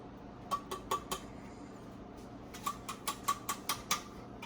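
Drained green chilies and jalapenos drop into a bowl in a kitchen, giving a quiet run of light clinks and taps, a few at first, then a quicker cluster of sharper hits.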